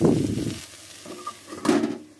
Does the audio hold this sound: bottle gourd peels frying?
yes